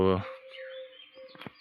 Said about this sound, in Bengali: আমার পাখি আমার কণ্ঠ শুনে ফেলছে